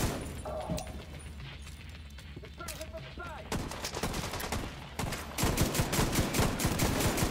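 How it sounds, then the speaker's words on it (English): Gunfire in the video game The Division 2, including shotgun shots, with rapid repeated blasts building into dense, continuous firing near the end, amid game sounds and occasional voices. "This shotgun does not hit hard."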